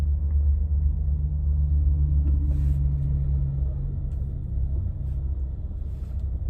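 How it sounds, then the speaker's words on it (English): Steady low rumble of car engines in slow, jammed road traffic, heard from inside a vehicle, continuous and fairly loud with no talking. "Man, traffic blows."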